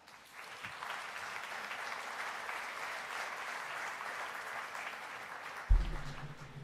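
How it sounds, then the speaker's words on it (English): A conference audience applauds steadily for several seconds, a wash of clapping at moderate distance, ending as a thump and a voice begin. "can I get a big round of applause for the Minister of Environment of Italy, Gi"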